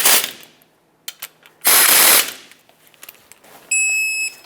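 Hand tool tightening the front brake caliper bolts on a 2011-2018 RAM 2500 pickup: a few loud, close bursts of ratcheting clicks, separated by quieter pauses and scattered mechanical taps.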